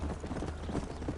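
Horse hooves galloping in a video game set in the Old West near Blackwater, a rapid, steady clip-clop of fairly muffled hoofbeats over a constant low rumble.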